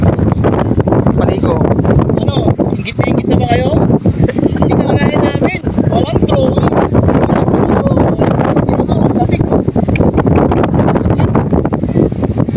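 Strong wind buffets the microphone in a constant rushing roar beside the clear-water Daraitan River in Tanay, Rizal, with people talking loudly over it.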